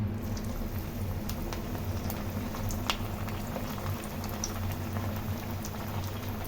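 Onion bondas deep-fry in hot oil with a steady, dense bubbling hiss that holds even and continuous throughout, with no talking.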